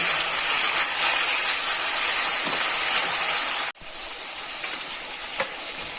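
Curry leaves and tomato hitting hot oil in a pan for drumstick dal, a loud bright hissing sizzle that drops off abruptly partway through and continues as a softer, steadier fry.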